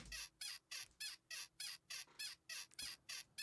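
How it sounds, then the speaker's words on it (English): Bed squeak sound effect looped in a Spanish guitar beat, about ten evenly spaced bright, creaky squeaks in a steady rhythm, alone and fairly quiet. "And then we had to throw the bed squeak in that's in all of these beats,"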